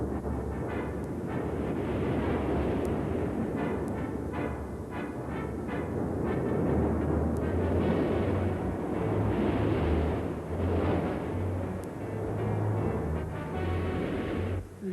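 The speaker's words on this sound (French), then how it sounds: "Le bruit des coups de feu avait fait craquer l'énorme falaise de glace" Cartoon effect of a huge ice cliff cracking and collapsing, a long, rumbling roar with crackling bursts and low booms, steady and dense throughout.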